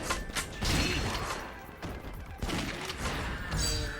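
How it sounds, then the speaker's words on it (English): Heat snipe explosions in the video game Yakuza: Dead Souls, a chaotic run of dull booms, crashes and thuds layered with rumbling gunfire bursts, moderately loud and continuous with no talking. "Because the explosions aren't as big as they should be."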